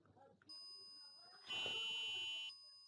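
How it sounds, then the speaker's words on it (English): A PIR motion sensor on a Raspberry Pi maker advent calendar project sets off an electronic buzzer alarm: a steady high-pitched tone begins, then grows louder for about a second before dropping back, close and continuous, with faint talk at the very start. "And that set the alarm off and the lights flashing."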